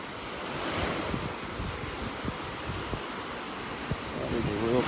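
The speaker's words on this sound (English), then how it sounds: "listen to those waves." Ocean waves washing onto a beach in North Naples, Florida, heard as a continuous wash of surf with gusty wind buffeting the microphone.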